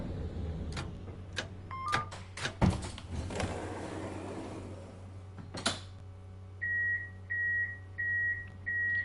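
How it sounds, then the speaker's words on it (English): Tram control buttons in the TramSim console driving game click in a handful of sharp, separate taps, followed near the end by four evenly spaced electronic beeps from the cab, with no talking. "And the clicking of the buttons."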